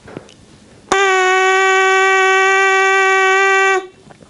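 A steady buzzing tone from lips buzzing on a brass mouthpiece, held for about three seconds, bright and reedy with strong overtones, starting and stopping abruptly.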